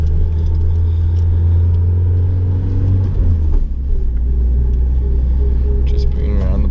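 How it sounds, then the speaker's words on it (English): Nissan Silvia S15 with a badly rubbing fender liner driving slowly around the block, a steady low engine rumble and road drone with scraping texture throughout. "Sorry for the noise, my fender liner is terribly rubbing."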